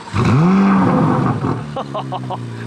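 A 2023 Corvette Z06 engine revs up with a rising roar, then settles into a lower rumble, close by, with brief voices and clicks toward the end.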